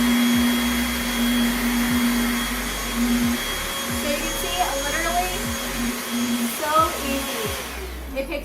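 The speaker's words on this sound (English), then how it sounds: "So this vacuum cleaner is very versatile and super easy to use and wonderful on all surfaces." A Bissell Featherweight 3-in-1 vacuum cleaner runs in its handheld position with a steady, close, whining motor hum. Faint clicks and shifting tones come through as it moves, and a voice talks briefly over it.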